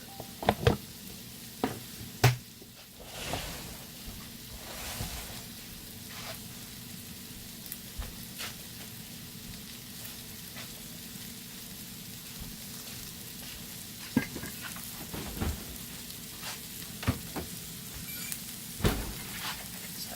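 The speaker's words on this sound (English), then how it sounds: "Just to get the flour taste out, cook it down a bit." Flour cooking in a pan for a creamy ranch chicken and rice dinner gives a soft, steady sizzle. Faint scraping stir clicks recur throughout, heard close and alone.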